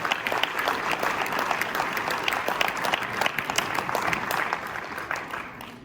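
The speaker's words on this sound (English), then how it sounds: "let's give the Mockingbirds a great round of applause" A crowd at a chamber of commerce annual meeting and awards presentation claps steadily in sustained applause, a dense, even patter of many hands with no voices over it.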